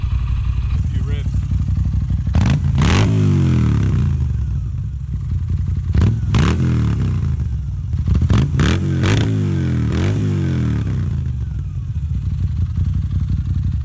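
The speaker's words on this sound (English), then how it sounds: "As you can hear, its Agostini exhaust, which is an added accessory, sounds bloody amazing." A Moto Guzzi V9 Roamer with an 850cc V-twin and an aftermarket Agostini exhaust idles with a deep, close rumble, then is blipped through several sharp revs that rise and fall back.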